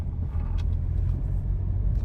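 A preowned 2018 Hyundai Creta is driven through city streets, its low engine and road rumble steady and close from inside the cabin, with light ticks and rattles on top.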